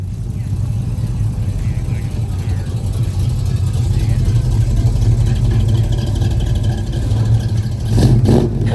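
Cars pulling out of a car show make a steady, low engine rumble, with a louder rev swelling near the end and faint background voices.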